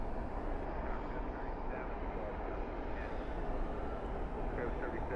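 An Airbus A380 moving at DFW airport at night gives a steady, dense roar of engine noise that holds evenly throughout, broad and constant with no breaks.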